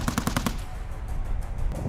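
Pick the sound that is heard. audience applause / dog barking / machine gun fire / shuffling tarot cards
machine gun fire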